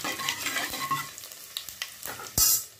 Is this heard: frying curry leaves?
yes